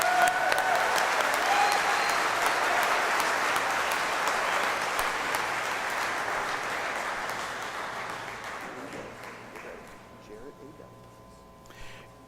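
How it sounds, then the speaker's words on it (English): A crowd at a university commencement claps loudly for graduates and their families, sustained applause that gradually fades over about twelve seconds, starting with a brief overlapping voice. "let's give a round of applause to all of these distinguished graduates and families"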